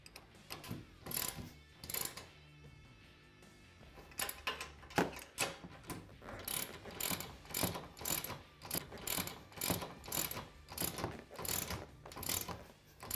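A hand ratchet clicks in rapid repeated bursts while tightening reused nylock nuts on the mounts of a Can-Am Commander UTV, close and clear with short pauses between strokes.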